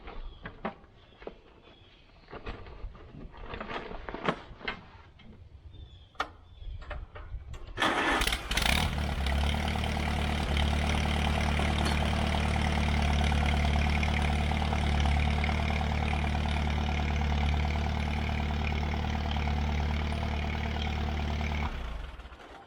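Allis Chalmers CA tractor engine cranks and fires up after several loose knocks and clanks, then settles into a loud, steady idle that runs on and cuts out near the end.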